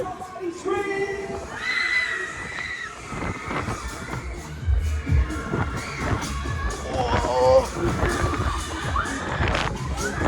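Riders scream and shout together on the Air Raid ride at a funfair in Newcastle, loud and continuous over whirring machinery, with voices rising and falling throughout.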